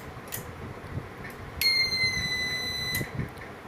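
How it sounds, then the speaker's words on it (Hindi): A Swadeshi diagnostic tool connected to a Tata Safari Dicor central locking module lets out a single long electronic beep, a steady, piercing tone lasting over a second above quiet background noise, with no speech. "स्वदेशी टूल ने एक लंबी बीप दी।"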